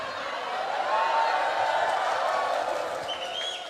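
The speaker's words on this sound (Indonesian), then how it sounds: "Ngono ya tepuk tangan" A large audience at a religious talk bursts into sustained applause mixed with crowd noise, loud and even throughout, with no clear speech on top.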